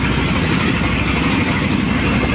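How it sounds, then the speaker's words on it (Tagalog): Two boat engines on a service boat out at sea run together in a steady, loud, close droning rumble with no breaks, alone without voices. "at dalawang makina din ang pinanda ni Kapitan"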